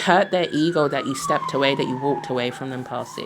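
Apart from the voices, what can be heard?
siren passing outside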